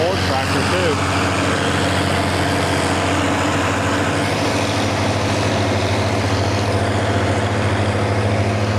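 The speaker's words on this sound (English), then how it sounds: "Nice Ford tractor too." A Ford tractor engine runs steadily on a farm, a constant low rumbling drone throughout, close and continuous with faint voices under it.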